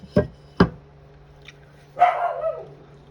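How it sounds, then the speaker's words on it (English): Two sharp barks from a nearby dog, then a longer, drawn-out bark or howl after a short pause, with no talking. "she's barking"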